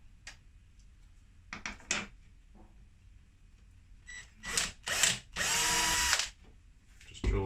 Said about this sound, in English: just drill through that.